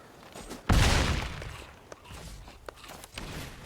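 Ill-Timed Explosion card effect in Magic the Gathering Arena: a sudden loud burst that decays over about a second, followed by softer scattered clicks and thuds.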